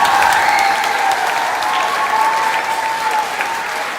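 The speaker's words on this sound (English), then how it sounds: "Give him a big round of applause" An audience at a school musical claps in loud, dense applause that fills the room evenly and fades slightly toward the end.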